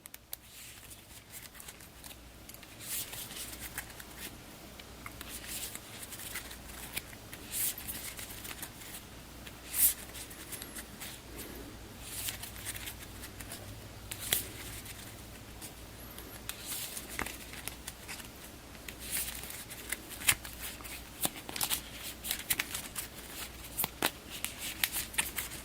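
Cards in a deck being shuffled, a steady papery crackle and riffle that runs for about twenty-five seconds with no one talking.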